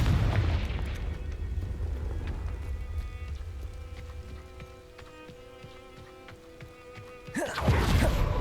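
Confringo spell explosion in the video game Hogwarts Legacy, a heavy rumbling boom that fades into a rain-like hiss before another blast bursts in at the end.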